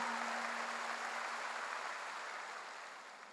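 A congregation applauds during a Korean church revival service, producing a faint, steady wash of clapping that slowly fades over a few seconds.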